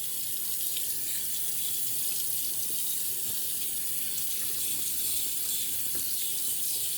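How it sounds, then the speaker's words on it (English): Tap water runs steadily into a bathroom sink while wetting the face before a shave, a constant bright hissing flow for several seconds with no talking. "I always like to re-wet my face after a hot shower and right before I shave"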